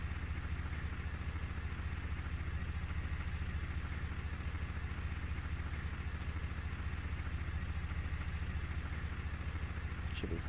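A tractor engine runs steadily in Port Limbo, a low, even mechanical drone that holds throughout with no voices over it.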